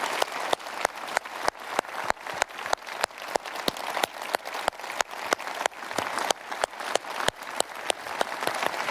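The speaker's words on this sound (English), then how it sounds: "Please applaud yourselves." A conference audience applauds after a keynote speech, a steady dense wash of clapping with sharp regular peaks, moderately loud and sustained throughout.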